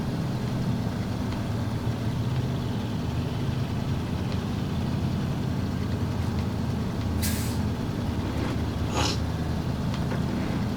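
Truck engine roaring steadily in SnowRunner with the unloaded truck's tires spinning, loud continuous drone with brief hissing bursts near the middle.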